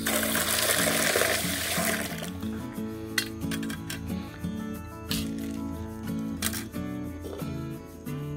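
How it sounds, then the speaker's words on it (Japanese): Dishes are washed under an outdoor water tap at a campsite: running water gushes loudly at first, then eases while plates and utensils clink intermittently close by. "その前にね、洗い物だけしときましょう。"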